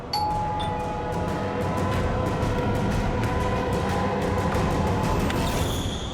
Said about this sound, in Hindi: घंटी सुनाई नहीं देती क्या?